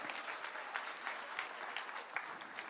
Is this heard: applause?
yes